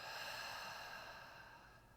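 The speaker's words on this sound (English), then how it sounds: "Exhale." A slow, steady exhale during a guided breathing exercise, a soft airy breath heard close and alone, fading gradually over about two seconds.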